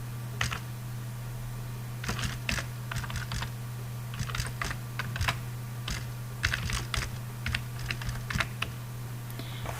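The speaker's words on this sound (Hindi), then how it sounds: "इसी तरह से मैंने टाइप किया है नंबर।" Fingers type on a computer keyboard during data entry into Microsoft Access, producing quick irregular clusters of close key clicks over a steady low electrical hum, with no talking.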